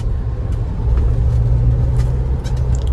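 Inside an automatic car on the move: a loud, steady low engine and road rumble with faint clicks and small bumps.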